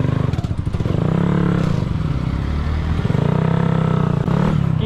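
Motorcycle stuck in mud on a night road, its engine chugging and revving hard in a steady pulsing rhythm, close and loud, with scraping and clattering throughout.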